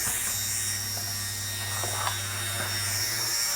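An OSUKA flexible-shaft mini grinder runs at its second speed setting, giving off a steady, faint electric whine and buzz that holds evenly throughout.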